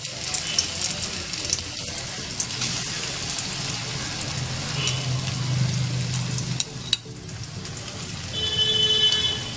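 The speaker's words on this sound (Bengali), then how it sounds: "তেলের মধ্যে আমি একেবারে সমস্ত পনিরগুলো দিয়ে দেব।" Paneer pieces frying in hot oil in a pan for a paneer and potato curry, a steady close sizzle and crackle with occasional stirring clinks.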